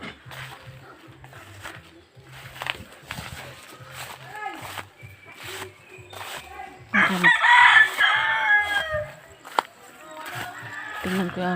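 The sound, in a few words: chickens clucking and rooster crowing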